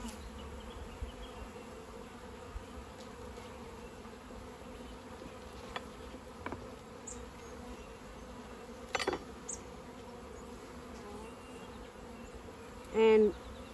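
Honey bees buzz steadily around an open top bar hive in a strong colony, a constant low drone with occasional louder passes of individual bees close by and a brief nearer burst near the end.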